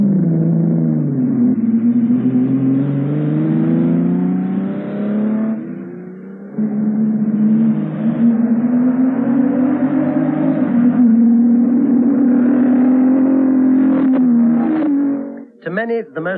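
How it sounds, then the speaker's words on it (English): Ferrari GTO front-engine sports car engine, a loud close rumbling drone that rises and falls in pitch through repeated revs and gear changes, with a sharp burst of sound at the end. "there's also that tremendous sound from a Ferrari"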